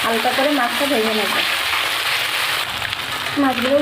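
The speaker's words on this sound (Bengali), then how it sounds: "হালকা করে মাছটা ভেজে নেব" Small puti fish frying in oil in a pan with salt and turmeric, giving a steady broadband sizzle throughout, with a person speaking over it at the start and again near the end.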